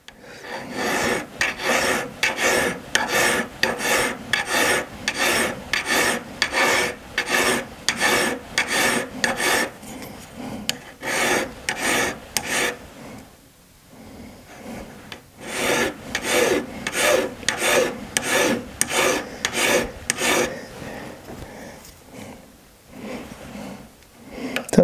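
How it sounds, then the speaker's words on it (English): A metal file rasps across the bevel of a goldsmith's plate in steady, even back-and-forth strokes, loud and close, with a brief pause mid-way before the rhythmic filing resumes. "Let the file do the work, turn it round."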